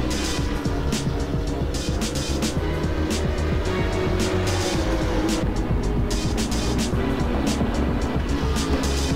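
GT3 race cars, including a Nissan GT-R and a BMW, at Imola in the Assetto Corsa racing game, give a continuous loud engine roar with rapid surges and gear-shift bursts, close and without talk.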